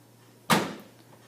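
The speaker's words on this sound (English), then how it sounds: "Close the washer." A washing machine door swings shut with a single close, solid thud, then a short fading rattle, with a faint steady hum underneath and no talking.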